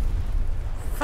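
Explosions rumble through a Battlefield 2042 match, a dense, continuous low roar with no clear gaps, loud and unbroken until a voice cuts in at the very end.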